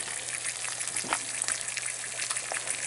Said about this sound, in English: So you can hear the egg frying, cooking.